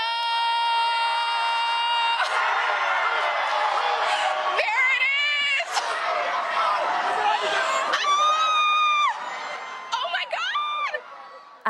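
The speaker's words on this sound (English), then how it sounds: "the screams and the cheers really rang out in Dallas, Texas" A large crowd screams and cheers at a total solar eclipse in Texas, with high whoops and shrieks rising over a dense roar of voices for several seconds.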